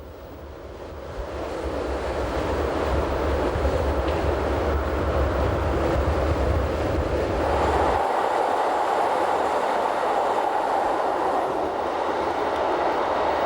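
Glacier Express train rolling on Swiss narrow-gauge rails near the Albula line junction, a steady loud rumble of wheels and carriage noise throughout, with the low drone dropping away partway through while the rushing sound continues.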